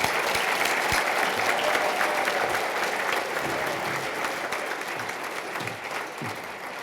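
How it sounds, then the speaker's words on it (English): An indoor audience at an awards ceremony gives a sustained round of applause for award nominees, dense steady clapping from many hands that stays loud and fills the room, then eases slightly toward the end. "Can we give these fine young women a round of applause?"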